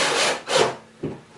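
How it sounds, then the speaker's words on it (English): Wooden pieces and metal angled brackets scrape and rub against each other while the brackets are fitted into a DIY wooden countertop base: two close, rasping strokes and then a softer knock. "put these angled brackets and mount them in here first"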